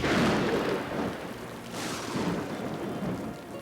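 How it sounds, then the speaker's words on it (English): Stormy rain on a May day in a dramatized reenactment, heavy wind-driven rain with low rumbles swelling loud twice, no voices. "It was a stormy day in May."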